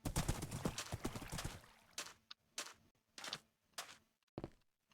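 Horse hooves clip-clopping in a video game, a rapid dense run of hoof beats slowing to a few separate loud clops.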